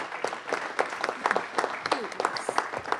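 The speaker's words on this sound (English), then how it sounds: "So everyone, please give them a round of applause." An audience at a council meeting claps, a scattered, moderately close round of applause that carries on steadily for a few seconds, with some voices mixed in.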